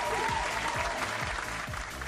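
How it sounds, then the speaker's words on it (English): Dense, steady applause from a crowd fills the whole moment as a continuous wash of many hands clapping, fairly loud and without a break. "That applause is from everybody around the world."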